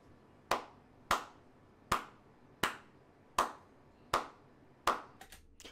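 Slow, deliberate clapping by a single pair of hands, seven evenly spaced sharp claps about a second apart, fairly close, ending in a quick flurry of softer claps.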